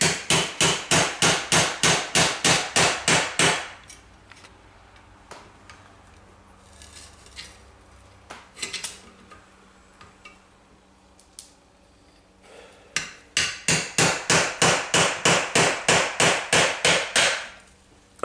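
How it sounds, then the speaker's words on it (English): A hammer taps a chisel against the lip of a Jacuzzi Magnum Plus pool pump's rear bell, loud rapid metallic strikes in two bursts with scattered single knocks between them. "take his chisel and his hammer, and he's just going to basically tap it and wet against the little lip there"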